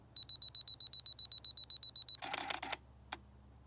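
A digital camera firing three bracketed exposures: a steady run of high electronic beeps during focusing, then a quick burst of three mechanical shutter clicks, with one lighter click after a short pause.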